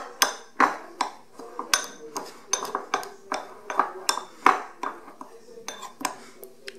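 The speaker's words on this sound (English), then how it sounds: "we're going to mix these dry ingredients together so they're well combined" A whisk clinks rhythmically against a bowl while mixing dry chocolate chia pudding ingredients with PB2 peanut butter powder, a steady run of close metallic taps and scrapes with no talking.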